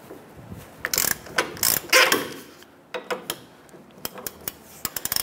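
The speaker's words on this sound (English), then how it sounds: "Using a 17 millimeter socket here, we're gonna go ahead and loosen this nut for our lower strut clevis fork bolt." A ratchet with a 17 mm socket loosening the nut on a lower strut clevis fork bolt of a 2008-2012 Honda Accord, giving irregular bursts of clicking pawl strokes with metallic clatter, close and alone without talk.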